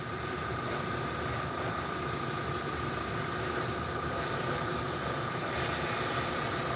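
An airbrush sprays paint in a home garage, giving a steady, even hiss of compressed air that runs unbroken and fairly soft throughout.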